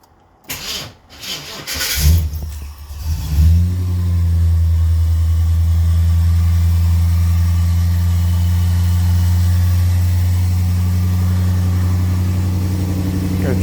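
A Holden VT Commodore 5.0 V8 wagon with a newly fitted starter motor cranks with a few short bursts, fires up and settles into a loud, steady, throbbing idle close by.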